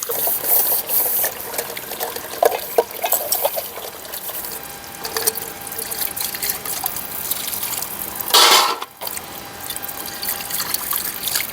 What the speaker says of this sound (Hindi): बर्तन धुलने के लिए ये वाला पानी यूज़ कर लेंगे।